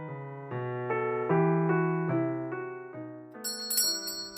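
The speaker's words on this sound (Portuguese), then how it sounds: "Blue Blood toca o sino novamente, mas ninguém vem" A bright metallic bell rings repeatedly in quick succession, several clear dings with ringing overtones, close and fairly loud, with no voices.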